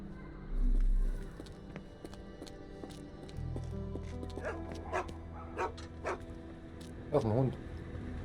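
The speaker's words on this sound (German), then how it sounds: "Das ist ein Hund." A dog in Sherlock Holmes The Awakened gives a few scattered yips and short barks, then a wavering whimper near the end, all fairly faint over a low steady drone and quiet background sounds.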